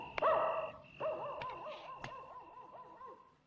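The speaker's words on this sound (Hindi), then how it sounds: "सुना है कुत्ता पागल हो गया है।" A dog barks and whimpers in a 1990 Hindi film scene where the animal is said to have gone mad. There are a few sharp close barks followed by tremulous whining yelps, and nobody speaks.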